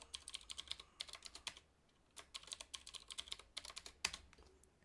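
Keys clatter on a computer keyboard as a password is entered at a server terminal, with quick bursts of close, crisp keystrokes separated by short pauses and no talking.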